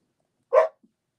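A dog barks once, loud and close, in an indoor home setting, followed by a tiny faint after-sound and then silence.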